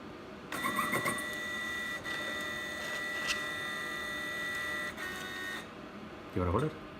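An ALX label applicator machine powers on with a sustained electronic hum and steady tonal whine that starts abruptly and holds for several seconds. A brief knock is heard near the end.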